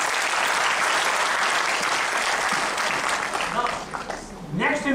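A lecture audience at a leadership talk claps in a dense, sustained burst that thins toward the end, where a voice begins speaking over the fading applause.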